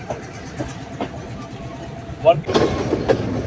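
A train rolls slowly on the mountain line between Nuwara Eliya and Ella in Sri Lanka, with soft intermittent clicks and rattles of the carriages, growing louder and busier near the end, while people talk quietly in the background.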